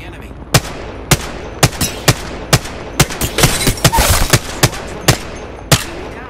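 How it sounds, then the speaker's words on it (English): Gunfire in the video game Apex Legends: about a dozen sharp shots in an uneven rhythm, with a rapid burst in the middle, loud and close, over faint background game sound. "Opening fire on the enemy."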